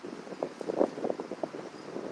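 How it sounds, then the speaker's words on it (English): Gusty wind on a windy day buffets the microphone outdoors, a close, rumbling flutter that rises and falls in quick uneven pulses. "The wind is picking up."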